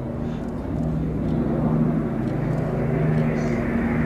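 Eurofighter Typhoon jet in a flying display at Ragley Hall during the Midlands Air Festival, a sustained loud engine roar with tonal whine, steady and fairly close, no talk heard.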